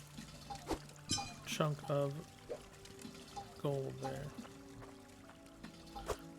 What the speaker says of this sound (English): now that that's all melted up, we'll pour it in our mold